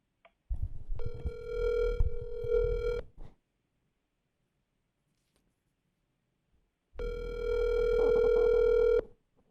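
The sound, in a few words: telephone ringing on phone line call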